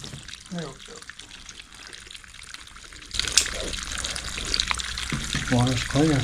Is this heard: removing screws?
no